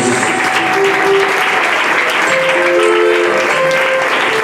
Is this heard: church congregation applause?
yes